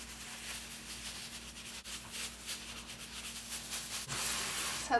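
A surface is scrubbed with The Pink Stuff abrasive cleaning paste, giving a soft, steady rubbing and scouring texture that stays faint and close throughout, with no talking.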